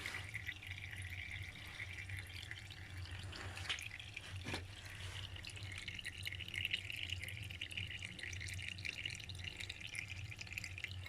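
Oil drains from a Range Rover transmission pan in a faint, steady trickle with occasional drips, heard quietly and alone.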